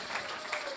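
Church congregation clapping during a worship service, a dense, steady wash of applause with a couple of brief louder swells, no clear voices on top.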